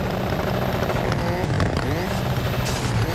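A rally car engine in the EA Sports WRC video game revs steadily at the start line of a snowy stage, a loud, continuous throaty drone with rising and falling pitch sweeps beneath a voice giving instructions.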